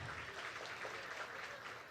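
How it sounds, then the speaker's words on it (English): Gala audience applauding the chef after a meal at an awards evening, a steady wash of clapping from a large crowd, fairly faint and distant, continuous throughout. "let's give Chef Adam a big round of applause for that delicious food."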